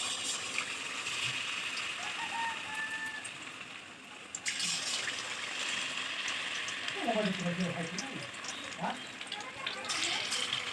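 Battered chicken feet pakora dipped in gram-flour batter sizzle and fry in hot oil, a steady crackling hiss that swells as pieces go in, with someone talking over it.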